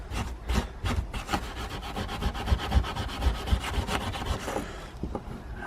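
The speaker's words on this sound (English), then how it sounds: "you've got to keep rubbing" Steady back-and-forth rubbing of an abrasive against a rusty metal garden tool, a rapid scraping rhythm of close, fairly loud strokes that continues without pause and with no one speaking.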